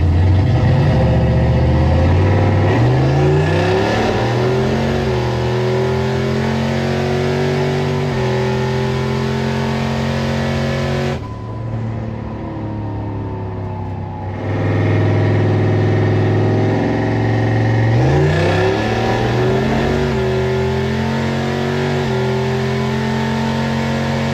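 A Ford car accelerates hard on a timed drag pass, its engine note climbing through several gears in rising sweeps. It briefly drops back to a lower, quieter tone, then pulls hard through the gears again.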